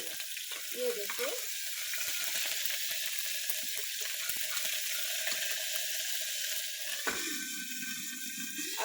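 Ginger garlic paste frying in hot oil in a pan while making dal khichdi, a loud continuous sizzle and crackle with brief spattering bursts, close up and steady for several seconds.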